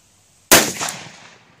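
A single sharp gunshot from a Thompson Center Encore rifle chambered in .460 S&W, loud and close, with a quick broadband crack followed by a decaying echo tail of about a second.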